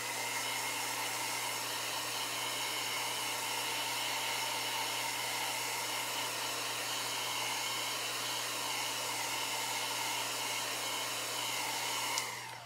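A hair dryer blows steadily and close for over twelve seconds, drying a chalk paste transfer on a craft board with a constant whirring hum and airy hiss, cutting off at the end.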